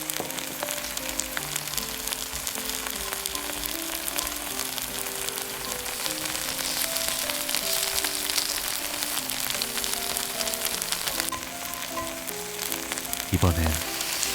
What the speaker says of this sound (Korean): 표고도 볶아주세요.